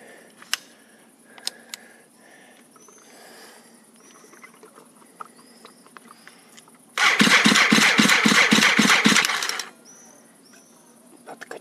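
A brush cutter's small two-stroke engine buzzes up to high revs for a few seconds, loud and rattling, then drops back to quiet with scattered clicks around it.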